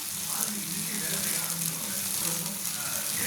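Vegetables sautéing in a pan with a little water, a steady close sizzle and frying hiss running throughout with faint stirring.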